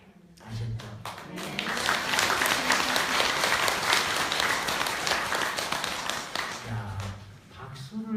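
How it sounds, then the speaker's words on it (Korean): Sustained audience applause fills a hall during a Buddhist dharma talk at a temple in Changwon, rising quickly after a short pause, holding steady and loud for several seconds, then thinning out as a few voices come through at the end. "박수를 치는 거 보니까"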